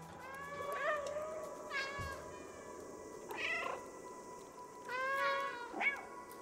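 A cat in the video game Stray meowing several times at spaced intervals, clear tonal mews standing out over a faint ambient background, each call brief and moderately loud.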